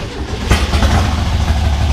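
A Volkswagen beach buggy's rough, throaty engine runs loudly nearby, its loud exhaust rumbling steadily with a brief sharp burst early on.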